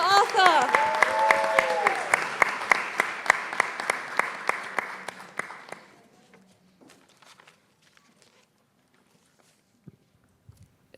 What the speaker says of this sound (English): Let's give a big cheer as we welcome Dr.